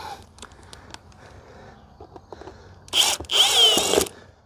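A power drill drives a screw during shed work, two short, loud whirring bursts close up after scattered quiet taps and handling noises.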